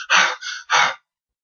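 A voice imitates a woman panting heavily, three loud breathy gasps in quick succession, close and alone, then silence.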